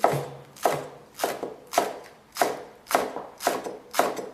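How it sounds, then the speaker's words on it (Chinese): Green onions being finely chopped with a knife on a board, eight evenly spaced crisp thuds about half a second apart, close and clear with no talk. "醒面的时间里，我们来切些小葱花，切的稍微碎一些"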